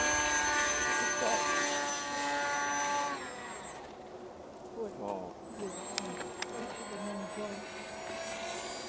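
Small RC model airplane engine buzzing in flight, a high whining drone that stays steady, dips briefly, then returns, with people talking nearby.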